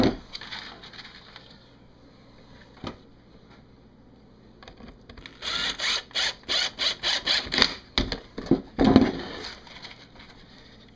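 Screws are driven into wood while a small weasel trapping box is built, heard as close, rapid, evenly spaced ratcheting clicks of a driver, preceded by a few scattered knocks and handling sounds.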